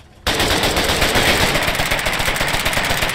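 Gunfire in the Foxhole war game: rapid machine-gun bursts start abruptly and continue as a dense, loud, continuous rattle with no talk over them.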